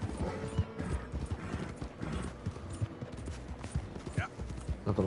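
Horse hooves clip-clop steadily in Red Dead Redemption 2, with a short whinny near the end and faint mechanical clanks in the mix.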